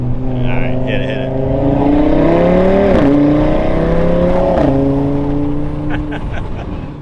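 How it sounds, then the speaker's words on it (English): Audi RS3 five-cylinder engine with a mid-pipe exhaust revving hard, a loud, close, raspy roar that climbs, drops and climbs again before easing off, with no talking over it. "That V10 sound really has now come alive with the mid pipes."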